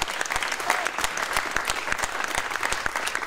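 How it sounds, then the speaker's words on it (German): Applause for the Federal Police big band at an open day at a district office in Schweinfurt: a sustained crowd of hands clapping densely and steadily, moderately loud, with no voices over it. "einen großen Beifall an die Big Band der Bundespolizei, die uns so hervorragend auf diesen Tag eingestimmt hat"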